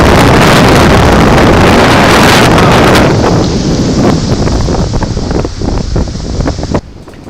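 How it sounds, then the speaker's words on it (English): Strong 20 mph wind gusts on a beach at Leo Carrillo in Malibu, buffeting the microphone with loud, continuous roaring rumble that eases slightly toward the end. "Out of nowhere, a 20-mile-per-hour wind starts ripping."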